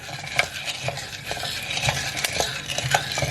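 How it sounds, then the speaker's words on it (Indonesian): Coffee beans being hand-roasted in a pan over a gas stove crackle with scattered sharp pops of first crack amid a constant stirring scrape, close and steady with no talk. "Nah, sudah ada bunyi crack."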